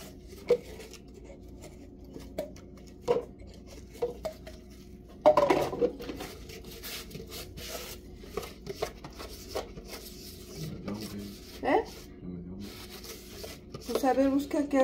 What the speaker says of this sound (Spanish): voy a lavar trastes rápido para dejar aquí limpio